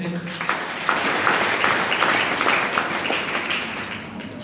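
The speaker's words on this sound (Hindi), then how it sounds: "एक बार आप लोगों के लिए ताली होना चाहिए" Audience applause at a Hindi-language talk or seminar, a dense steady wash of many hands clapping that holds for the whole stretch at moderate loudness, with a murmur of voices underneath.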